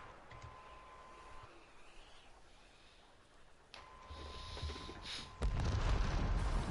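During a Warframe spider boss fight, a sudden loud explosion booms near the end after quieter game ambience, then a heavy rumbling roar that stays loud.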